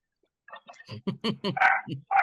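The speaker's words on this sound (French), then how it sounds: "Et on entend surtout le chien." A dog barks in a quick run of sharp yips and woofs, fairly close and loud, heard over an open line during an online webinar call.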